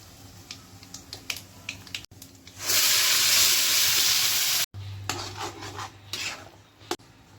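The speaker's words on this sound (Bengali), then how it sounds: "এটাকে ভালো করে পেস্ট করে নেব। সাথে দেবো 2টো কাঁচা লঙ্কা আর 4-5 কোয়া রসুন।" Green chillies and garlic ground into a paste with tomato in a home kitchen, a steady loud rasping grind lasting a couple of seconds between lighter scraping and clinking strokes.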